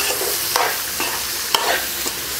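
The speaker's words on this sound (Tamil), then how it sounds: "வெங்காயம் நல்லா வதங்கட்டும்." Onions stirred and sautéed in a pan for tea-shop masala bonda, with a steady sizzle broken by several sharp scrapes of the spoon against the pan. No one speaks.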